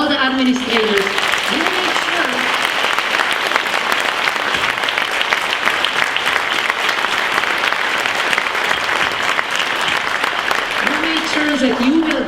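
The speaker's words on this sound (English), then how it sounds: "If we can please all clap for all the teachers and all the administrators." Sustained applause from a graduation audience at Platt College, clapping for the teachers and administrators, a dense steady wash of hands lasting the whole stretch with voices faintly at the start and end.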